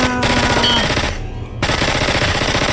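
Rapid machine gun fire in a video game rattles loud and close in a sustained burst, briefly dropping away before resuming at full intensity.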